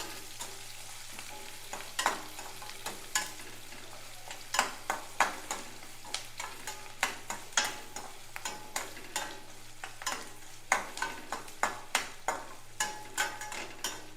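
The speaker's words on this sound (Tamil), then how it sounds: "ரெண்டையும் போட்டு நல்லா வதக்கிக்கலாம்" Finely chopped onion sautéing in a pan for a brinjal curry, a soft sizzle under a rapid run of crisp spoon scrapes and taps that repeat roughly every half second, fairly close and otherwise quiet.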